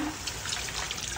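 Beef broth from simmered meat poured into a pot, a brief, close, continuous liquid splash and trickle with no voices.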